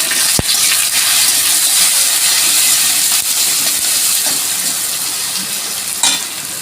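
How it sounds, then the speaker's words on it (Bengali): Chopped onions and garlic frying in hot oil with panch phoron in a pan, a loud, steady sizzle and hiss that holds throughout, with a brief sharp tap near the start and a small clatter near the end. "পেঁয়াজটা আমি লাল লাল করে ভেজে নেব"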